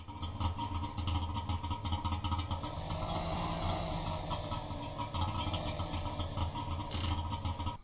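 Car engine idling steadily in the driving game The Long Drive, a loud continuous low rumble with a constant drone throughout and no speech over it.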